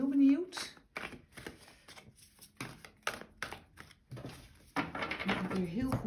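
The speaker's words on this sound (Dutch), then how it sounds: "Ik ga eerst de kaarten schudden en ze neerleggen." A deck of tarot-style cards shuffled by hand on a table in riffling bursts with brief pauses. Someone speaks Dutch at the start and end, and the crisp card noise runs between and under her voice.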